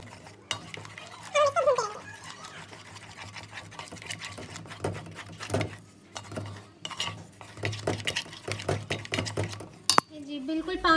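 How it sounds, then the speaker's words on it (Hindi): A spoon stirs a pot of panjeera made with semolina, fox nuts and edible gum, scraping and clinking against the metal in an irregular rhythm close by, with a low steady hum beneath and occasional speech. "और ये आपने चम्मच हिलाते रहना है"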